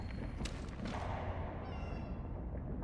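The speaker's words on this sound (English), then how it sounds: "Do I hear another cat?" Cat meowing inside the video game Cronos: The New Dawn, a faint high call rising over steady low rumbling ambience and dull thumps, brief and somewhat buried in the background.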